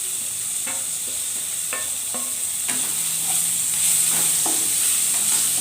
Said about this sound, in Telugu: ఇప్పుడు ఇందులోనే రెడ్ చిల్లీ, చికెన్ పీసెస్ కూడా వేసేస్తున్నా.